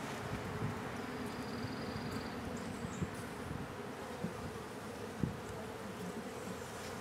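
Italian honey bees fill an open hive with a dense, steady buzzing drone, heard up close and fairly quiet, with faint handling knocks and no talk.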